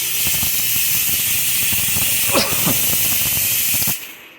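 A fog machine cleaned by running vinegar through it gives a steady loud hiss and spray, with a few sputtering bursts near the middle, then cuts off abruptly.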